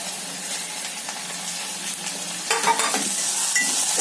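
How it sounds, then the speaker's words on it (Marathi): Onion and tomato fry in a pan on medium heat, giving a steady close sizzle. Scraping stirs and a brief splashy burst come in partway through. "आता कांदा थोडा भाजलेला आहे, त्यात आता आपण टोमॅटो घालूयात।"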